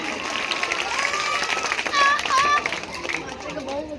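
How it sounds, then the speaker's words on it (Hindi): An audience at a school annual function comedy drama claps loudly amid excited children's shouts and a few whistles, a dense, continuous burst of cheering and applause. "एक बार जोरदार ताली बजा दीजिए।"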